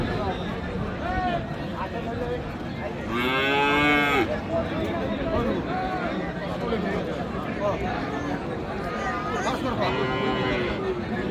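A cow with her calf lows loudly at a cattle market, with two long moos standing out from a steady backdrop of people talking and crowd babble.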